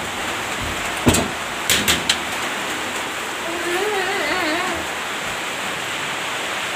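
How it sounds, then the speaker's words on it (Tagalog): Heavy rain pours down in a steady, loud hiss, broken by a few sharp knocks near the start and a brief wavering tone partway through. "grabe ang ulan ngayon"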